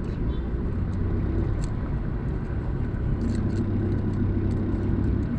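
Steady road traffic rumble on EDSA heading toward Cubao, a dense low engine drone with continuous car noise close by, filling the whole stretch without letup.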